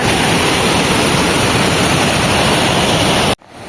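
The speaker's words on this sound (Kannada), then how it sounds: "ಇಷ್ಟು ಡೀಪಲ್ಲಿ ಬೀಳತ್ತೆ ನೋಡ್ರಿ ನೀರು" Loud, steady roar of water plunging from a height at Kanur Falls near Yellapur, Uttara Kannada, broadband and continuous, cutting off abruptly near the end.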